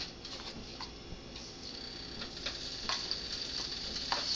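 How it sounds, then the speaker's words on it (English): Beef stir-fries in canola oil with a soft, steady sizzle, broken by scattered sharp clicks and scrapes as the meat is stirred in the pan. "Stir-fry the beef until done."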